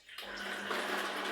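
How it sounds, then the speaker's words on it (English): Water pours into a juicer holding a couple of handfuls of nuts, a short steady splashing rush that starts abruptly and runs on evenly at close range without speech. "pour in some water"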